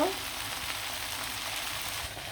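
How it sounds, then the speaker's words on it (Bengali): Chicken pieces frying in hot oil in a pan, a dense, steady sizzle and crackle that stays loud and close throughout without talk. "সবগুলো মাংসই আমি সুন্দর করে ভেজে নিব"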